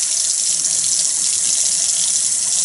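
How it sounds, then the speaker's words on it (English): Water runs loudly and steadily from a sink tap while soap is rinsed off hands. The close, continuous hiss carries through the whole stretch with no talking. "You're then going to rinse off the soap, making sure to get everything out from underneath your fingernails"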